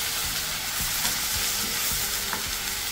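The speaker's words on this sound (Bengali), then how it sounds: "এখন এটাকে সুন্দর করে একটু ভাজি, লাল করে ভেজে তারপরে" Prawns frying in a pan, a continuous loud sizzle with occasional stirring clinks, heard up close without talk.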